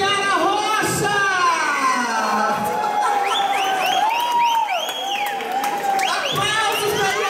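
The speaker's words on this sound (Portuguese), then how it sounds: "Aplausos pra Chiara Rocha!" A carnival bloco crowd cheering and whooping for a guest, loud and continuous, with excited voices shouting over it.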